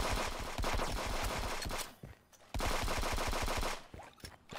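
Rapid automatic gunfire from automated turrets in the video game Counter-Strike 2, two dense bursts of fast repeated shots, each lasting about two seconds and separated by a short pause, loud and close.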